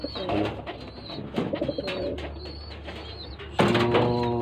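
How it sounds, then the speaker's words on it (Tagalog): A racing pigeon back home at its loft coos in soft, repeated throaty phrases close by, with a louder, fuller burst of cooing near the end. "andito na yung kalapati, nakauwi na sa bahay"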